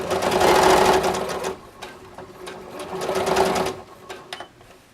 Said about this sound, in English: I'm gonna sew this with a 1/4 inch seam allowance